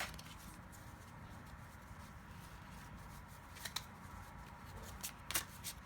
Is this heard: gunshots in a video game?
no